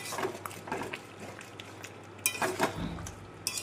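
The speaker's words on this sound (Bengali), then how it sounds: "চলো চিকেনটা একটু ভালো করে নাড়ি, নিচে বসে যাচ্ছে" Chicken is stirred in a cooking pan, producing scraping and clattering strokes of a utensil against the metal with soft sizzling underneath, in irregular bursts that are sometimes louder.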